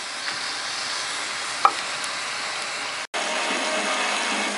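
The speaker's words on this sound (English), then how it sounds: "now I cook this till it's no longer pink inside and the hamburger is no longer pink and onions are tender" Ground beef and onions cooking in a pan until the meat is no longer pink: a steady, moderately loud hiss of frying, with one brief clink, then a short cut before the sizzle resumes.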